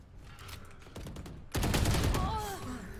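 Gunfire in a video game, with a rapid burst of shots that swells loud near the end after a short stretch of quieter mechanical clatter, and a player's voice talking over it.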